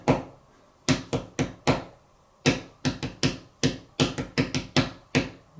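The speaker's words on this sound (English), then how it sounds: "I can clap this for you" A single pair of hands claps out a practice rhythm for a music theory exercise, sharp dry claps in uneven groups with short pauses between them, close and clear with no talking.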